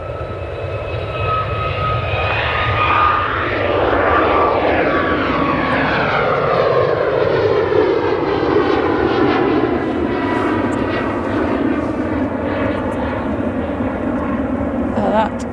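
Airliner on final approach at Manchester Airport, a loud sustained engine roar with shifting whine tones passing close overhead, steady throughout the clip.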